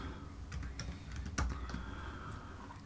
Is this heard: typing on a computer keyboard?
yes